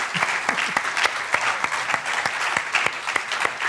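An audience applauds organisation members gathered on stage at an official award ceremony, with steady, dense clapping that holds evenly throughout, sharp individual claps standing out from the wash.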